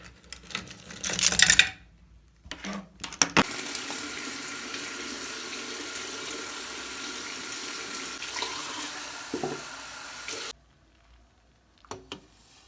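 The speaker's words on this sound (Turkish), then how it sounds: "suyun ısınmasını bekledim ben. O yüzden açtım yani musluğu" Tap water runs steadily into a sink for about seven seconds as paint brushes are washed, with brief splashes and clatter before it and a faint knock after it stops.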